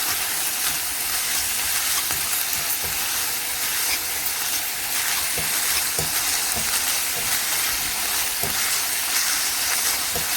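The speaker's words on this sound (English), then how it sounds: "so now that you hear that it's started to fry" Minced chicken sizzles and fries steadily in a pan with a dense, continuous crackle and hiss, close and fairly loud, with small pops scattered throughout and no voices.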